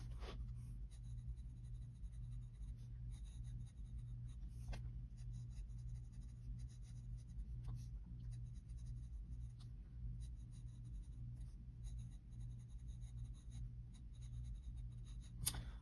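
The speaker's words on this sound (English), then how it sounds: "Just gonna write the same thing, the quick brown fox." A fountain pen filled with Sailor multi-shading ink scratches softly across paper in a series of faint strokes, separated by short pauses, very quiet and close over a low steady background hum.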